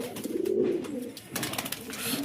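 A pigeon coos near a keeper's loft, low soft rolling calls heard close up over a moderate background of other ambient noise.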